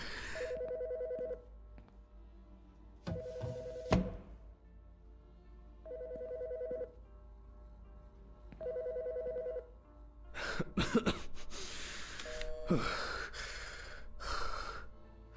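A telephone rings in the video game Autopsy Simulator, four even repeated rings separated by pauses, followed by clattering handling sounds and louder bumps near the end.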